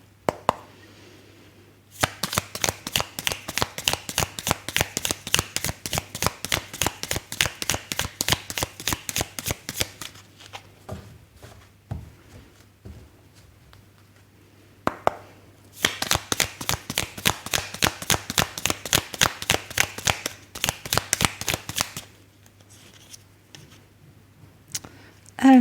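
Tarot cards are riffle-shuffled in two long runs of rapid, crisp flutters, close and clear, with a quiet pause between them and no talk over the shuffling.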